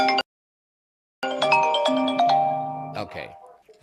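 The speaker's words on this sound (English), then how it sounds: "Someone's phone is ringing." During an online meeting a phone ringtone chimes through the call, a short burst, a pause, then a longer melodic tonal ringing sequence that fades out, fairly loud and close.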